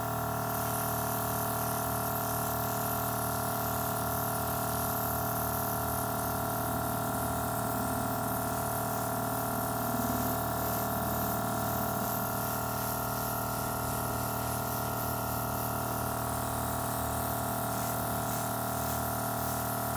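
Airbrush spraying foundation makeup onto a face, a steady close hiss with a motor hum running unbroken throughout, no talking.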